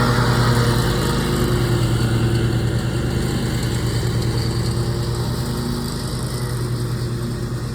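A lawnmower engine drones steadily outdoors in a park at dawn, a continuous mid-level hum with a low rumbling tone that holds even and unbroken throughout, with no voices present.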